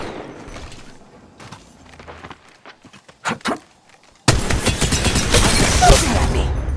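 A few scattered thuds and shots give way to a sudden, dense stretch of loud rapid gunfire from the Apex Legends Mobile video game, close and continuous until the end.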